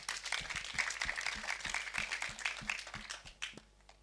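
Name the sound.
audience applause at a trade fair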